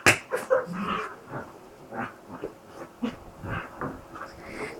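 A dog makes short whimpering and breathy vocal sounds at close range, in bursts across several seconds, while a person in the room fusses at it.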